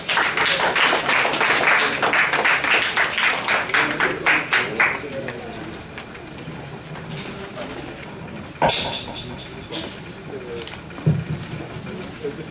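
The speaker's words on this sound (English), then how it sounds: "Please welcome him with a great round of applause." Round of applause at a Toastmasters workshop gathering welcoming the president of an arts association, loud dense clapping that fades after about five seconds into a quieter room with a few stray sounds.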